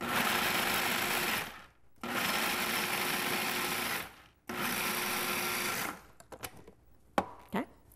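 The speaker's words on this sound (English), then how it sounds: "Just going to pulse these up till they're crumbs." A food processor pulses bread into crumbs in three loud, whirring bursts of nearly two seconds each, separated by brief stops, followed by a few light clatters and knocks.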